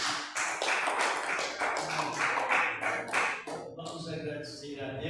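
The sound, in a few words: clapping for the pastor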